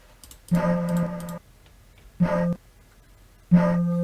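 Three hollow, breathy tones like air blown across a bottle mouth, each a short sustained hoot separated by silence, dry and close, an unprocessed bottle-blow sample from a hardstyle track.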